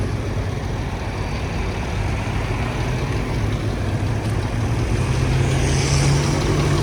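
A turbocharged 966 tractor runs at a fall folk festival, giving a loud, continuous heavy rumble that holds steady throughout with a slight rise in pitch near the end.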